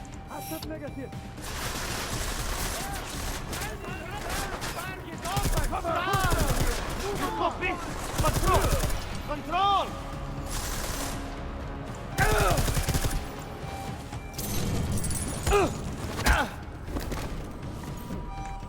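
Gunfire in the shooter game Deus Ex: Mankind Divided comes as loud, repeated bursts and thuds in an action sequence, mixed with other game sounds and voices.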